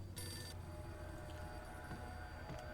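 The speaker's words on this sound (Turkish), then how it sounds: "Telefon çalıyor elinde silah aldı Max" Telephone ringing inside the Max Payne video game, a bright electronic trill in a short burst near the start over a steady game background hum.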